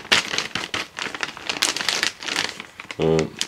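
Plastic parts bags from a G-Made Sawback RC kit crinkle and rustle in steady bursts close by, with a brief tonal buzz near the end; a voice talks over the handling.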